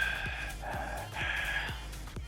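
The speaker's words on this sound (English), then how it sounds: "Just your heavy breathing." Heavy, close breathing rushes in and out right against the microphone in rough, regular gusts, loud and breathy with no talking.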